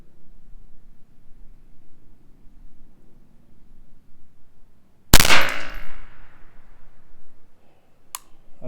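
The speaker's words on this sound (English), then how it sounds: "I just shot at the 9" A single sharp rifle shot fired while zeroing a rifle at a range, loud and close, ringing out after several seconds of quiet outdoor background, with a faint click a few seconds later.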